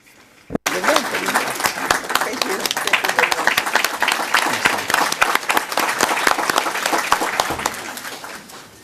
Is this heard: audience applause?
yes